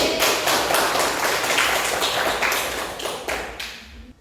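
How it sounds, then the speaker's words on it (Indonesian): Students clapping hands in a classroom, close and loud, with rhythmic bursts of claps that pulse and gradually thin out toward the end. "Oke, tepuk tangan dulu."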